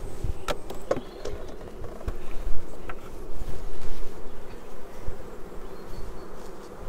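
Steady buzzing of a strong honey bee colony around an open hive fills the scene, a dense, continuous drone up close with a few sharper knocks and clicks scattered through it.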